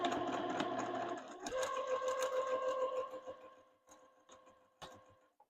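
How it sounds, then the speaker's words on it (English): Sewing machine stitching fabric strips together for a quilt binding, a rapid steady mechanical whir for about three seconds, then slowing into a few separate clicks and taps, close by. "I'm just going to sew my strips together"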